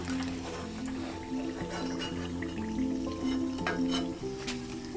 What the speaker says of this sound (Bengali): আমি বাকি সিঙ্গারাগুলো ভেজে নেবো